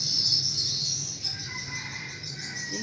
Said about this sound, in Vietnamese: Tiếng chim sáng là tiếng chim hót lạnh lót.